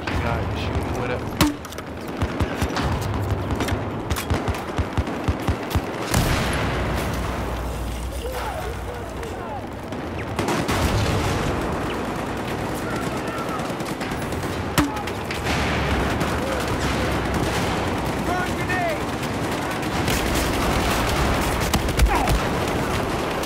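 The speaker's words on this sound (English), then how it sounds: "Watch out, there's a guy shooting with it." Rapid video-game gunfire crackles through a chaotic multiplayer firefight, with bursts, distant sniping and explosions layered under constant player chatter.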